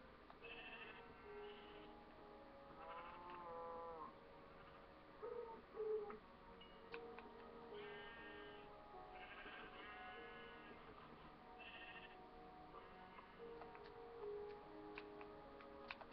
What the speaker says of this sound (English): Whoa, look at all these sheep.